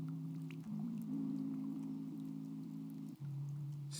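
Steady rain falls in the video game Omori, a continuous even wash of drops under a low sustained drone, with no talking.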